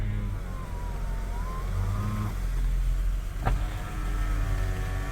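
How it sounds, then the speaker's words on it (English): Power windows on a car run with a steady electric motor whine over the low hum of the idling engine, then stop with a soft thunk as the glass seats, followed by the motor starting again, close and alone without talking. "I like it's got power windows."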